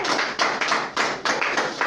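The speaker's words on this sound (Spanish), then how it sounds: "Un aplauso a la hermana, por favor." Applause for a woman in a church congregation, a burst of hand claps filling the room at steady moderate loudness, with no talking over it.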